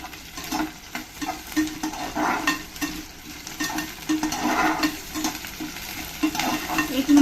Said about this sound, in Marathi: एक मिनिट शिजवून घ्यायचं कांदा. लाल जास्त नाही करायचं, फक्त शिजवून घ्यायचं आहे.